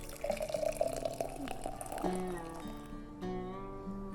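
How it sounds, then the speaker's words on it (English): Thick, cooked-down dandelion syrup pours steadily into a mason jar, a close, continuous liquid fill with a gently shifting tone, and no talking. "I'm gonna just be pouring this into a mason jar."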